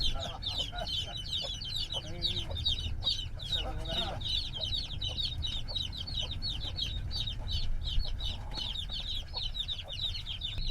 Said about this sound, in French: Des poules.